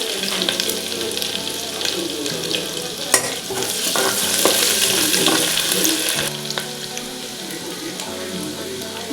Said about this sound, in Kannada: ಇದು ನೀಟಾಗಿ ಫ್ರೈ ಮಾಡ್ಕೊರಿ, ಅಂದ್ರೆ ಗೋಲ್ಡನ್ ಕಲರ್ ಬರಬೇಕು ಈರುಳ್ಳಿ